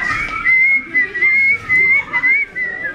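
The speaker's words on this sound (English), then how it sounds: "whistling a merry tune" Someone whistles a bright, cheerful tune in short clear phrases at a Christmas party skit, loud and close with brief pauses between the notes.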